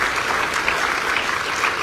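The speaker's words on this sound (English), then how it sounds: "let's give them a round of applause" Audience applause at a BART groundbreaking ceremony, a steady wash of clapping from a crowd that holds even for about two seconds with no voices over it.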